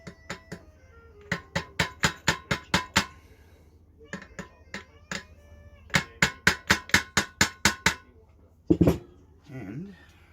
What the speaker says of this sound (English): tapping it in with a hammer